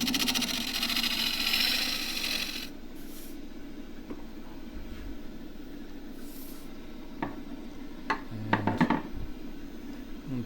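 A 1 inch skew takes a peeling cut on a spinning wood lathe while a tea box is being turned, making a loud, steady tearing hiss for a few seconds before it drops to a low motor hum with a few light taps.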